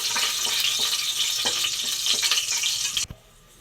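Loud, dense sizzling of whole spices such as cloves and bay leaves frying in hot oil for biryani, with occasional stirring clinks, cutting off abruptly near the end to quiet.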